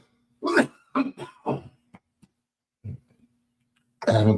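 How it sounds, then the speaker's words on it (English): Several sharp coughs and throat-clearing bursts come close to the mic during a podcast, a cluster of three or four early on, a lone one later and a heavier cough at the end. "I haven't coughed all podcast."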